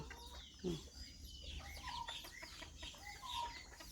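Several bantam chickens on a farm in Chanthaburi, Thailand, cluck and chatter softly in the background, with a few higher calls scattered over a low steady hum.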